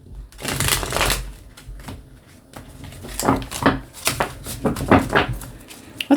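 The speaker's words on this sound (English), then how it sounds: "I'm going to give this extra shuffling" A deck of oracle cards being shuffled up close, with repeated riffling bursts and pauses between them, fairly loud and with no talking.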